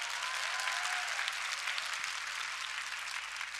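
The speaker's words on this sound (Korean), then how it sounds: "박수 한번 보내주세요" Audience applause at a live music stage show marking a seventh anniversary, a dense, steady wash of many hands clapping that holds evenly throughout with no voices over it.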